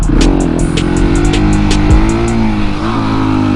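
A KTM 701 Supermoto engine revs hard in first gear during wheelie practice, loud and close. Its single-cylinder roar climbs and dips with throttle changes and a quick pitch sweep near the middle.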